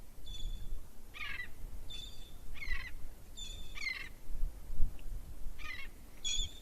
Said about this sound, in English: That bird sounds mad.